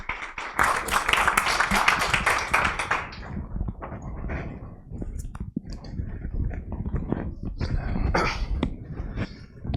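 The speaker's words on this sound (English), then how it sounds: "please welcome and give a round of applause" At a Data Days 2022 conference talk, the audience greets the moderator with a loud wash of clapping that fades after a few seconds into scattered, uneven individual claps and small knocks.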